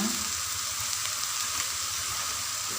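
Turmeric leaves stir-fry in a pan, giving a steady, close sizzle of frying with faint scraping from the stirring and no voices.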